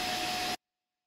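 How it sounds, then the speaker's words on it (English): A vacuum cleaner running close by gives a steady roaring whoosh with a faint whine for about half a second, then cuts off abruptly into silence. "with the vacuum cleaner on the go next to us"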